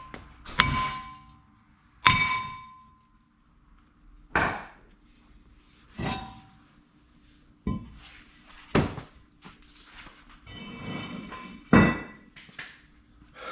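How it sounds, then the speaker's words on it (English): A sledgehammer strikes the rusted brake rotor on a 2010 Hyundai Sonata V6 front axle. About nine sharp, ringing metallic clangs land at irregular intervals, loud and close, with quiet gaps between them. "I think we're gonna need some sledgehammer."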